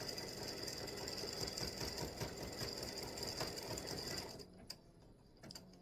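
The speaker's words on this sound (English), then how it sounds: "we're just about finished with the satin stitching around the state of Virginia" An embroidery machine runs a dense satin stitch outlining a Virginia state shape for a freestanding-lace earring or pendant, a steady rapid needle chatter that cuts off near the end, leaving brief clicks and quiet.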